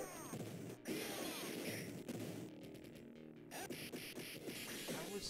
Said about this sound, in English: He dashed with some kind of punch combination and a kick.